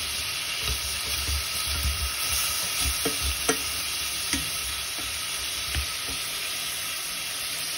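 Pork braising in a pan with fish sauce sizzles loudly and continuously, with occasional soft knocks from stirring cutting through the steady hiss.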